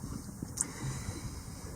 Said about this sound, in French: il y a quand même encore 20 nœuds de vent là